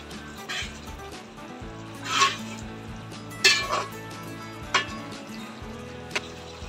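A spoon stirring half a cup of yogurt into vegetable tahari pulao in a pot, with several distinct metallic scrapes and clinks against the pot over a low background hum, no voices.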